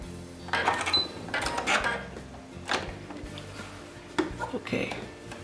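A sewing machine back-stitching a seam, short bursts of mechanical whirring and clacking with pauses between, close and fairly quiet, under faint talk.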